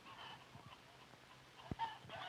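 A rooster at a poultry farm gives a few soft clucks, faint and somewhat distant, with one sharper knock near the end over a low, steady background hum.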